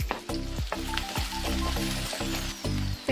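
Medium-size chopped onion with ginger paste and green chilies sizzling in hot oil, loud and close, while a spoon stirs in regular pulsing strokes under a constant frying hiss.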